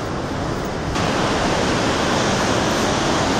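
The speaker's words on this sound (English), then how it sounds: "coming to Bar Creek Falls." Bar Creek Falls, a waterfall near the Rogue River in the Union Creek area, roars as a steady, loud, broadband rush of falling water that thickens slightly partway through, with no voices.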